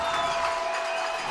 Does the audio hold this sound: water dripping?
no